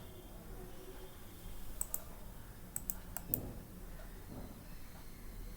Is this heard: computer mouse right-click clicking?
yes